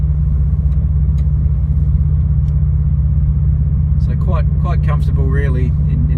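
A 2017 Subaru WRX STI with an Invidia R400 cat-back exhaust idles steadily, heard from inside the cab as a low, even burble, with someone talking over it near the end.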